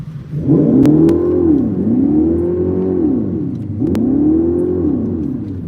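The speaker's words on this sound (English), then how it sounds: "I'll rev it up real quick." A Mopar car engine revs up and down repeatedly on Woodward Avenue, the pitch rising and falling in smooth loud sweeps, heard close by.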